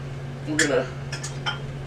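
A whisk clinks against a bowl while dry ingredients for buckwheat cookies are mixed, a few quick metallic taps and scrapes over a low steady hum.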